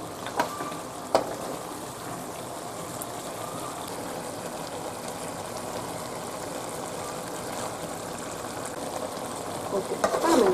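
Pepper chicken frying and being stirred in a pan: a constant crackling sizzle like rain runs throughout, with a few sharp scrapes at the start and a louder stirring clatter near the end.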